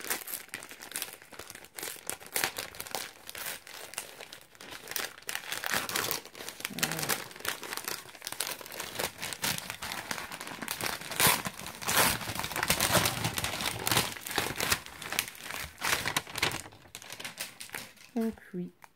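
Handmade recycled paper wrapping, taped shut, from an advent calendar gift crinkles and rustles continuously and fairly close, with crackly bursts throughout and a voice heard briefly near the end.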